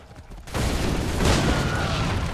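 A burst of gunfire in Assassin's Creed 3 erupts after a short quiet start, a dense, booming volley of shots that sustains loudly with rumbling echoes through the rest of the moment.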